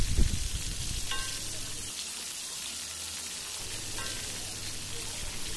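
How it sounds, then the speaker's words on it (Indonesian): Shallots fry in hot oil, a steady close sizzle running through the whole stretch with a few faint clinks of a utensil against the pan and no talk. "Kemudian kita goreng bawang merahnya ya."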